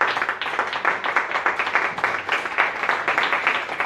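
Audience applause at a live jazz concert at the Cotton Club in Rome, dense and continuous clapping from a crowd filling the room at a steady level, with no voices over it.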